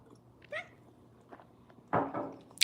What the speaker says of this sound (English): He came and meowed.